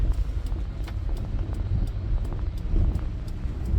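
A car engine drones low and steady under wind buffeting while a learner drives a manual transmission in first gear through a right turn, with faint ticking clicks above the rumble.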